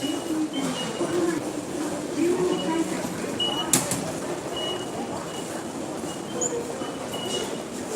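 Ride aboard a Keikyu line train out of Yokohama Station: a steady rumbling rail drone with a brief sharp metallic click midway, and people talking over the continuous carriage noise.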